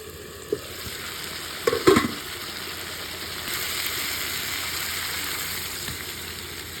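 A leafy greens curry is sautéed in a pan, with a steady sizzle throughout. A few utensil clinks and scrapes from stirring come near the start, and the frying swells slightly partway through.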